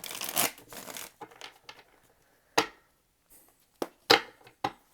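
Tarot cards are shuffled in a few quick riffling bursts followed by sharp single snaps and taps, close by, with no voices.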